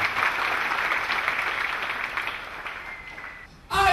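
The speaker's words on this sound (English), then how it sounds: "Clap for Jesus." A church congregation claps steadily and densely for several seconds, and the applause fades out near the end before a voice starts up.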